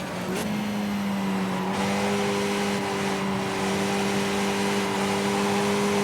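A Skip Barber race car howls around Tsukuba in iRacing. The engine holds a steady, loud drone near the listener, with a brief shift in pitch early on and no talking.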